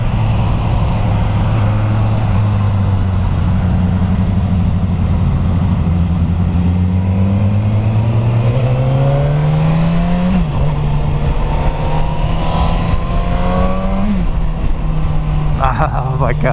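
Suzuki GSX-S1000F sport-touring motorcycle engine pulling strongly under acceleration with a steady low drone that climbs in pitch through gear changes, heard loud and close from the rider's position with wind noise and some talking over it.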